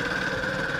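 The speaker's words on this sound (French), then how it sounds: "bruit de moteur" A go-kart engine runs steadily at close range, a continuous mid-pitched drone with a faint buzzing whine held at an even level for under a second.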